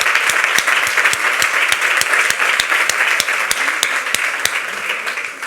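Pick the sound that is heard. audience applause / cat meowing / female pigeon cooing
audience applause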